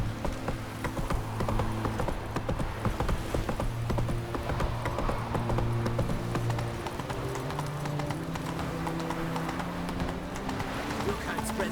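A horse galloping in The Witcher 3: Wild Hunt, steady rapid hoofbeats clip-clopping throughout under game music and spoken dialogue.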